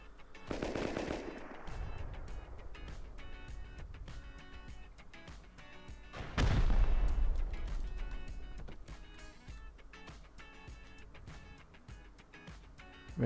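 Explosions from a solo base raid in the survival game Rust, a few heavy booms with a loud blast in the middle followed by rapid gunfire-like bursts and clattering, fairly close.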